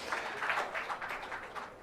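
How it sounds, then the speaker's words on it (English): Audience applause at a webinar event, a brief steady patter of many hands clapping at moderate distance, fairly soft and continuous with no voices over it. "A big round of applause for him, sir."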